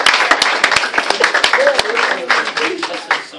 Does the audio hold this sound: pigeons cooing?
no